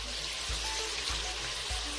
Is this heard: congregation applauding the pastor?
no